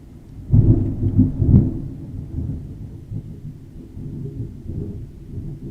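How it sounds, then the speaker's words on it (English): A low rumble of thunder rolls in loud and near, swelling in two heavy bursts and then trailing into a long, softer grumble that fades but lingers, with no voices over it. "Well, thunder is here, but storm is coming."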